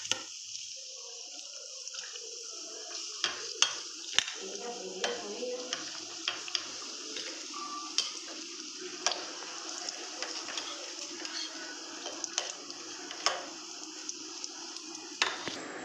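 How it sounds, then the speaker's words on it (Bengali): Cabbage chicken pakoras deep frying a second time, a soft steady sizzle in the oil broken by frequent clicks and taps of a utensil against the pan. "প্রথম একটা ভাজা দিয়ে রাখবেন হালকা করে, 2 ঘন্টা পর আবার আমি ভেজে নিলাম।"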